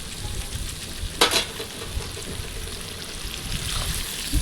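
Ground spice paste, freshly stone-ground, sizzles and fries in a pan for a chicken dish, with a steady broadband crackle and a sharp scrape of stirring near the start, continuing alone without talk.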